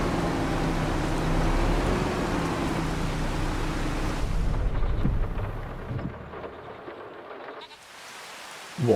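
Rain and thunder on a Louisiana farm in Farming Simulator 25: a dense, steady wash of rain with low rumbling underneath, thinning and quieting near the end.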